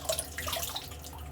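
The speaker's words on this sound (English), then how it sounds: "take the blade out, and rinse it in warm water" Water runs steadily from a warm tap as a razor blade is rinsed beneath it, a soft continuous splash with faint higher droplet sparkle, close and quiet, no voices.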